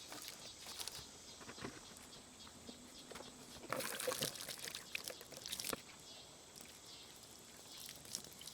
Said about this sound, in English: I run the hose water down here